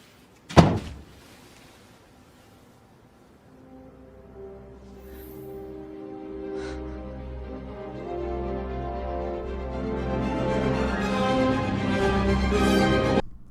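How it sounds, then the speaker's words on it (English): A door in a movie scene shuts with a single sharp slam near the start. A low rumbling ambience follows and slowly builds. "Hey, can you shut the door?"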